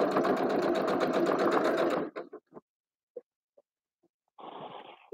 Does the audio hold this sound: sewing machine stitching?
yes